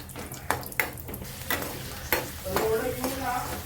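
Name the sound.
peanuts frying in oil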